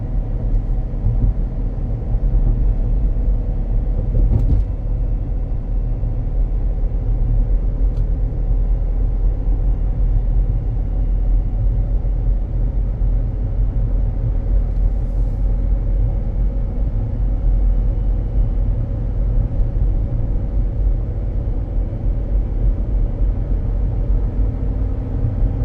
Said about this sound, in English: driving pretty decent despite the fact that those tires don't have much tread